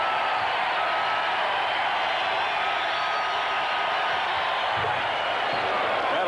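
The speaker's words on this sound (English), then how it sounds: "Just listen to this crowd." A basketball arena crowd for Indiana at Illinois roars in a dense, sustained wash of cheering and noise, steady and loud throughout with no break.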